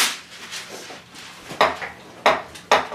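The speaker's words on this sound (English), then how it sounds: "let's stir it" Thick paleo biscuit batter stirred in a bowl, a spoon scraping and knocking against the sides in uneven strokes, with three sharper clacks near the end and no speech.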